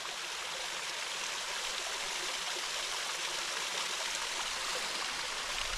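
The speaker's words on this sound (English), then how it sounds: "Cute little waterfall." Steady rushing and splashing of a small waterfall in a side canyon of the Sipsey Wilderness, a continuous broadband wash of water with no voices.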